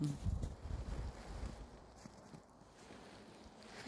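Wind buffets the microphone with a low, rumbling roar that is strongest at the start, then eases into a steadier outdoor whoosh.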